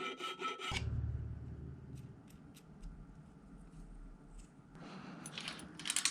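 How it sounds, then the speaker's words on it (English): A metal file rasps across the cut edges of a hand-sawn nut on a single-speed dirt jump bike's chain tensioner, giving steady scraping strokes up close with brief clatter at the start and end. "File away any edges that might interfere with the nut."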